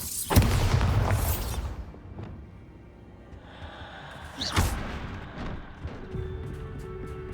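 Bombarda explosion spell cast in the Hogwarts Legacy video game, a sharp booming burst early on followed by a second blast midway, with game effects and ambience between them.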